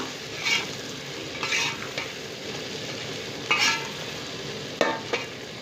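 A spoon stirs sliced onions and potatoes frying in oil in a pan for village-style fish curry, with soft scraping strokes recurring every second or so over a quiet, steady sizzle.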